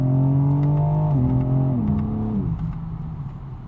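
A BMW M4 xDrive with all-wheel drive pulls away under partial throttle, its loud, close engine note holding a strong tone that steps down in pitch at each upshift before settling into a lower drone.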